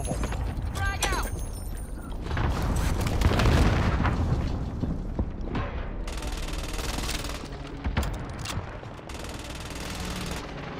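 A frag grenade blast and scattered gunfire in the Call of Duty: Modern Warfare video game, a heavy rumbling explosion amid clattering mechanical noises and bursts of shots, with brief game voice chatter over it.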